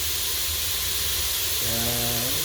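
Garlic and onion sautéing in an Emeril Lagasse Pressure AirFryer give a steady, loud hiss throughout, with a low tonal hum rising briefly near the end.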